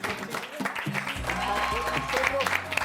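A studio audience bursts into applause, loud and sustained, with voices carrying over the clapping.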